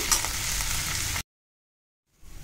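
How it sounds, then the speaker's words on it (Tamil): Hissing crackle of onions sautéing in hot oil in a pan, then abrupt silence before the sizzle fades back in softly. "ஆனியன் பச்சை வாசனை போக வதங்கிடுச்சு."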